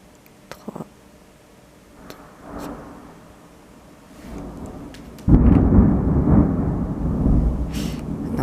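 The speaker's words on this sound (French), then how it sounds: "Un orage sec." Thunder from a dry thunderstorm coming in from the west off the Atlantic, starting with faint distant rumbles and then breaking into a loud, sustained rolling roar directly overhead.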